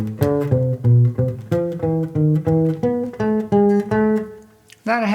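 A jazz bass line built from a Mozart melody plays as a steady run of distinct, evenly spaced low notes in eighth-note rhythm, close and clear with no voices, ending on a brighter, sharper attack.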